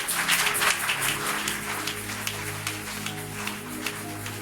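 A church congregation applauding the Lord, a dense, rippling wash of many hands clapping together, fairly loud and sustained with scattered sharper claps, alongside a low background hum.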